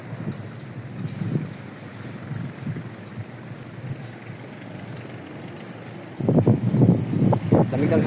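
Wind blowing outdoors at People's Park in San Jose del Monte, a steady rushing buffet on the microphone that grows stronger near the end, with faint voices in the background.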